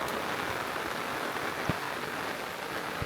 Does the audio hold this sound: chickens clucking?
no